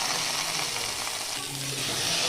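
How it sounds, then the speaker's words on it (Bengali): Spices with turmeric, chilli and salt, then mustard paste, sizzle and fry in a pan while being stirred, a steady close crackling hiss with no talking. "সমস্ত মশলাগুলো কষিয়ে নিয়ে আমি দিয়ে দিচ্ছি সর্ষে বাটা"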